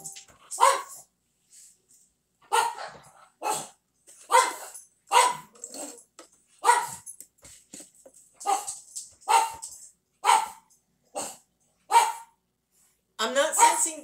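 A playful dog barks and yips in quick, separate bursts, about a dozen of them with short silences in between, loud and close.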